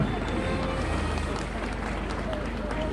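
Audience applause fills a large hall at the opening ceremony of the XI World Winter Polonia Games, Karkonosze 2014: a dense, steady wash of many hands clapping that holds loud and even throughout.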